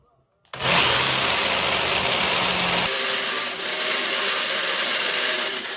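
An electric drill bores a 6.5 mm hole during the rebuild of a 1958 Schneider Melodie tube radio, starting abruptly loud and close, with a whining rise, then a steady grinding whir that shifts pitch partway and keeps running.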